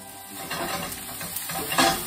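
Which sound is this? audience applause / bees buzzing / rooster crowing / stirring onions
stirring onions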